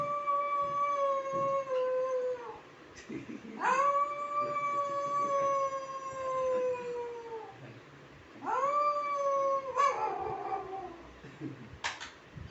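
A voice imitates dogs howling at night, giving three long, drawn-out, wavering howls separated by short pauses, close and clear.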